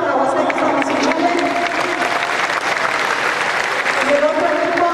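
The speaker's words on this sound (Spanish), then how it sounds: "Un aplauso para Huasteca San Azuchale" A crowd gives sustained applause and some cheering for a women's basketball team at a national tournament. The clapping is dense and loud throughout, with crowd voices mixed in.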